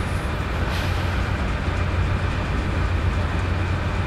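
A freight train rolls down a 1% grade in the Open Rails train simulator, a steady, continuous low rumble of wheels and cars with a faint hiss and no break.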